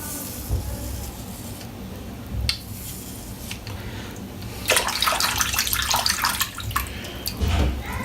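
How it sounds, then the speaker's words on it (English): Water sloshes and splashes as a Head Blade razor is dipped into a sink or basin, with a few soft swishes early on and a louder, denser stretch of splashing near the middle. "I'm just going to dip it in the water"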